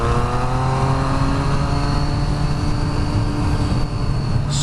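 Motorbike engine running steadily on a first ride out, a loud continuous drone with harmonic tones sliding gradually downward as the revs ease, no talk over it.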